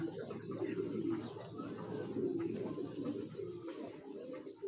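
Racing pigeons, including a black male, coo softly in a continuous low murmur close by, with no talk over them.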